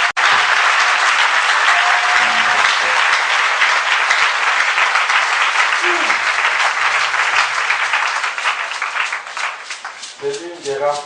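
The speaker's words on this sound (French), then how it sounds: "C'est l'une des rares fois que je vois une acclamation vraiment timide comme ça, sans ovation, sans cri de guerre" Sustained, fairly loud applause fills the room at a prayer vigil, a dense, even wash of clapping without cheers that fades slightly near the end as a voice begins to speak.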